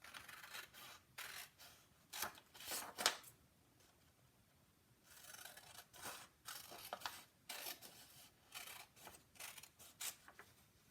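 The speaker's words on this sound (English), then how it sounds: "you just take your page, cut out those strips" Scissors cut thin strips from old book pages for paper pine cones, giving soft, close snipping and rustling in irregular runs of quick cuts, with a quiet pause midway.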